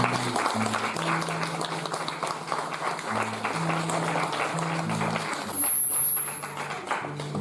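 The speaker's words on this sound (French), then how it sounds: "Je vous demande d'applaudir Rain Angel, s'il vous plaît" Applause from an audience at a French poetry show, a broad, steady wash of clapping that runs throughout, swelling slightly near the end, with a soft tonal hum underneath.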